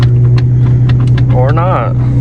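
A crashed 2023 Ford Raptor's engine runs with a loud, steady low hum and rumble throughout, with a brief voice rising over it near the end.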